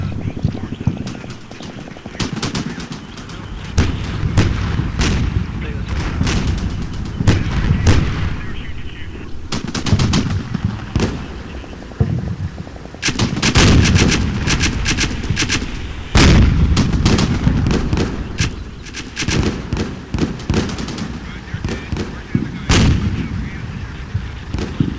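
Stryker armored vehicles in the Combat Mission: Shock Force war game pour fire onto a trench, a dense run of sharp gunshots and heavy booms repeating through the whole stretch, loud and close with few pauses.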